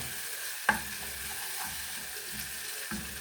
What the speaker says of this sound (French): on baisse un tout petit peu le feu. Et on continue à remuer.